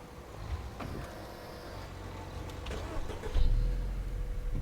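A Skoda car engine in a video game, idling and then swelling into a louder low rumble as it pulls away, with a few mechanical clicks and no talk.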